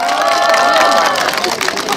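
Crowd at an outdoor walking event in Jecheon clapping and cheering in a dense, loud burst of applause with murmuring voices mixed in.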